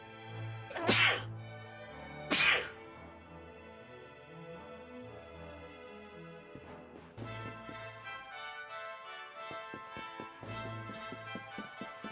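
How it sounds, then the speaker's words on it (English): Two sharp, loud sneezes from a character in the Dragon Quest XI game burst out a second apart over soft in-game music, which then continues alone. "Just sneeze."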